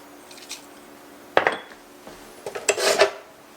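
A spoon clatters and scrapes inside a pot of poke salat greens while they are stirred, with a few irregular knocks and rasps close by and no voices.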